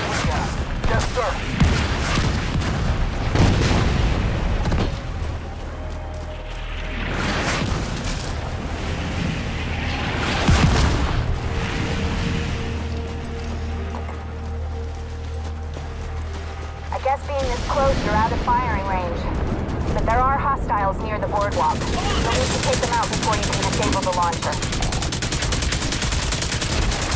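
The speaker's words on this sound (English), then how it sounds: "fire everything we have" Explosions and gunfire in The Division 2 at Coney Island Ballpark: a dense, continuous roar of shots and booming blasts, with voices talking over the constant battle noise.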